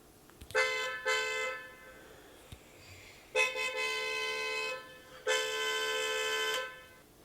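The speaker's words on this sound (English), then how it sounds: "Parap means sound of the car horn." A car horn honks three times with gaps between: two short toots, then two longer sustained blasts, loud and close, with no talk.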